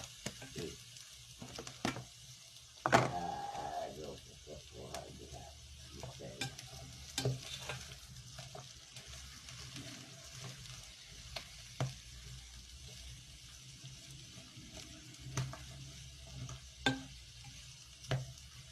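Cabbage and cucumber stir-fried in a pan on a portable stove, with steady soft sizzling, scraping stirs and sharp utensil clinks recurring throughout, one louder clatter early on.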